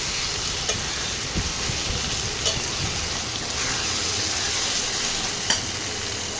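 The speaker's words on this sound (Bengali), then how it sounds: "আর রসুন বাটা দিলাম, দিয়ে ভালো করে এবারে একটু কষাতে হবে, মিশিয়ে নিই ভালো করে পেঁয়াজের সঙ্গে" Onions frying with ginger and garlic paste in a pan for a mutton dish give a steady, close sizzle, broken by occasional sharp scrapes and taps as the mixture is stirred, with no voices.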